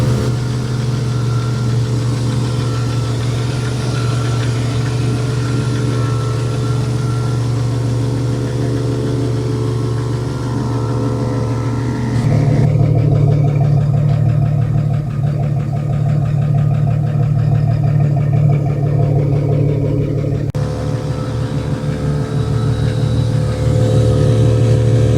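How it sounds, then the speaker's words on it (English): An air compressor inflates a tire, a loud, constant mechanical drone that shifts to a deeper, rougher hum for several seconds midway before returning to its earlier tone, heard up close with no talking. "we'll probably have to turn the compressor off to see the true pressure at that point"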